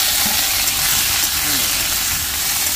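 Tomatoes dropped into onions and green chillies frying in a pan, a steady loud hiss and sizzle filling the whole stretch, close up and continuous.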